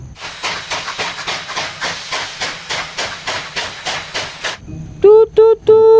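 Classic toy steam train running with rhythmic chuffing hiss, then a few short whistle toots near the end, close and loud.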